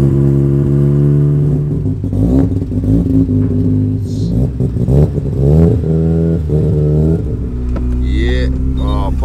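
A well-tuned Subaru engine is revved repeatedly, each blip rising sharply and dropping back, loud and close with some clattering over the top.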